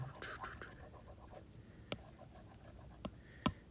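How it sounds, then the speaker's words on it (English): A dry-erase marker is wiped off a laminated periodic table: a soft, continuous scrubbing and rubbing close by, broken by a few sharp taps and clicks, under quiet speech. "let's see if I can erase a bunch here"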